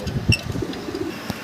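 Mondi pigeons, a red and black pair, coo in soft low murmurs with a couple of brief louder pulses, close and alone in a pigeon loft.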